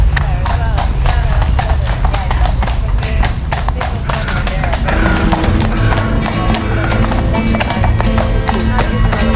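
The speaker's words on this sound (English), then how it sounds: "black horses look so nice" Horses clip-clop at a steady walking rhythm on a path in Hyde Park, London, the hoof taps close and continuous under ambient park noise and occasional talk.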